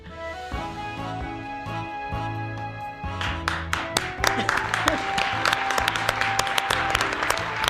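Audience applause that starts out sparse over background music, then swells after a few seconds into dense, close clapping that continues to the end, with talking mixed in.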